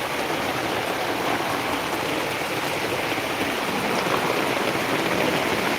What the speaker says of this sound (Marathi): इतका जोरात पाऊस आहे